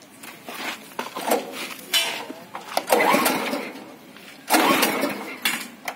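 Small engine on a farm mixing machine in Melur, Madurai being started, loud uneven revving and clattering surges that rise and fall over several seconds, close to the microphone.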